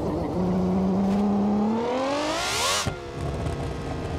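Gavril Vertex car in BeamNG Drive revs hard, the engine note climbing steeply to a shrill scream before cutting off abruptly, then settling into a lower idle, loud and alone.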